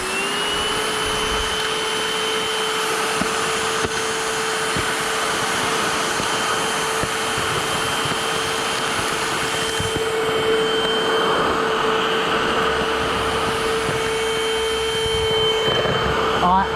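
Geemo cordless handheld wet-dry vacuum, 80W and 8.5 kPa suction, run without attachments in a garage over shavings, dust, dirt and grass: a steady high-pitched motor whine with a continuous airflow rush that shifts slightly as debris is picked up.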